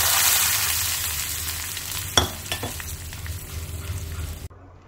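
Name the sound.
curry cooking and stirring in a pan on medium flame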